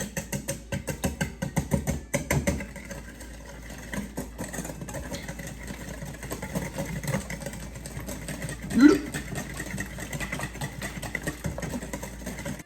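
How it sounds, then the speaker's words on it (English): Four medium eggs and 150 grams of white sugar are whisked for blueberry muffins. A quick, rapid ticking of the whisk against the bowl is loudest at the start, then softer strokes continue at a steady pace. "I've got some sugar here. White sugar, 150 grams. Give that a whisk."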